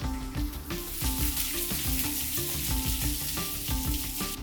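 Sliced onions and chopped green chilies sautéing in a pan for masala dosa filling, a close, loud sizzle with rhythmic scraping stirs throughout.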